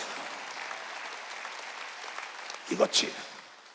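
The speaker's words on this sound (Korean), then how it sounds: "박수치라" Congregation clapping together during a Wednesday church service, a steady wash of hands filling the room before a voice briefly cuts in near the end.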